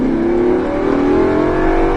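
Lamborghini Huracan accelerating hard on a race track, a loud close steady engine roar with the pitch slowly rising, no speech.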